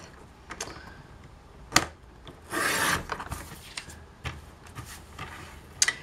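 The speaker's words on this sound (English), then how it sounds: "I take my paper cutter and I line up the corner where the blade is, and I'm just going to cut this into 6 strips" A paper cutter slices a sheet into strips for a sunburst card, giving a few short, soft scrapes and one longer rasping slide of the blade, close and quiet, with no voices.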